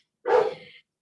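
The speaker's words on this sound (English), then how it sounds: "Sorry about my dogs." Dogs bark indoors in one short burst of about half a second, a loud sharp yelp that trails off, alone without any talking over it.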